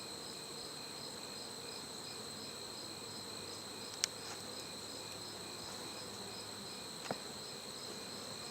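Buckfast honey bees hum steadily around an open breeder hive during an inspection, a faint continuous buzz throughout with a couple of sharp clicks near the end.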